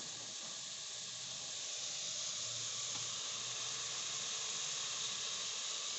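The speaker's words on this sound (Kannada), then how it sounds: "ಹಾಕಿರೋ ತೊಗರಿ, ಬೀನ್ಸು ಎಲ್ಲ ಸ್ವಲ್ಪ ಫ್ರೈ ಆಗಬೇಕು" Toor dal and beans fry in a pan with a steady, even sizzle and hiss that stays at the same level throughout and has no voices over it.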